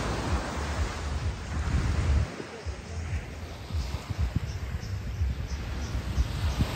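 Sea waves at Cleopatra Beach, below a hill: a continuous broad wash of surf mixed with gusting wind buffeting the microphone, steady and fairly loud throughout, with no clear talking.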